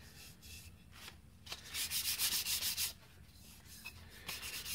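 Hand sanding of a desk fan's lower casing with fine 600 grit sandpaper, a steady close rasping rub with a louder burst of strokes midway, heard alone without speech.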